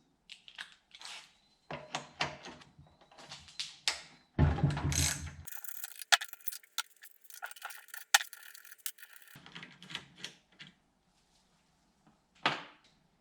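A ratchet fitted with a 10mm socket loosens bolts on the carburetor of a semi-trash water pump, giving repeated bursts of quick metallic clicking with pauses between, close and with no voices.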